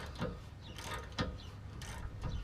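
A hand ratchet clicks in three short bursts while turning a bolt under a 2005 Chevy Avalanche during a torsion-key lift and level job. The clicks are close and crisp over a low background rumble.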